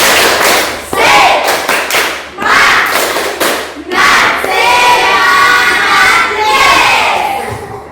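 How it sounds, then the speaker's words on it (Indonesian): A group of schoolchildren does the tepuk semangat chant, clapping in rhythmic clusters and shouting the chant together, loud and near, ending in a sustained collective yell. "Sekali lagi, tepuk semangat"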